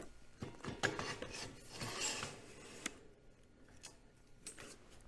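The steel tongue of a Range Road RR602 logging trailer is shoved into the main pipe with faint, intermittent metallic scraping and rubbing, and a few sharper knocks along the way.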